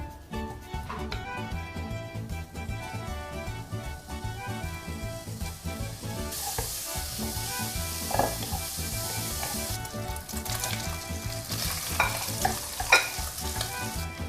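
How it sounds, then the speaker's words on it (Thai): Regular bacon and then marbled bacon frying in a pan to render their fat, a steady sizzle with stirring and clinks that runs the whole stretch, bright spitting swelling midway, no one speaking. "เราจะเอาเบคอน ปกติอะลงไปก่อนนะคะ แล้วก็ค่อยใส่มาร์เบิลเบคอนลงไปทีหลัง"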